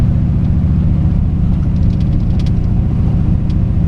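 A 1984 TVR Wild Wedge with a 4.0 V8 drives gently in wet winter conditions, its deep, steady engine burble loud and close throughout, with faint ticks and splashes above it.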